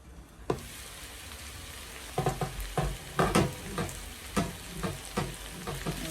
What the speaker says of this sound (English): Cover it, reduce the fire to low heat for everything to simmer